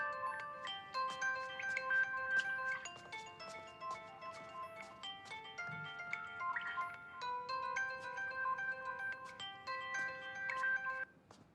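A telephone rings with a repeating melodic ringtone, bright chiming notes cycling steadily and fairly quiet for the whole stretch, with no voices over it.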